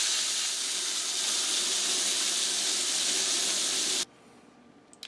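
Steak searing in olive oil in a pan over medium heat on a stove, a loud, steady broadband sizzle and hiss that holds for about four seconds, then cuts off abruptly, leaving a quiet background with a faint short tap.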